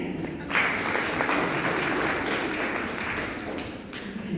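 Audience at a stand-up comedy show breaking into applause, a dense, even wash of clapping from many hands that swells in at once and holds steady for a few seconds.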